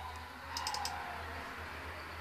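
Two quick mouse clicks on a computer in succession, faint and close, set against a steady low electrical hum with no talking.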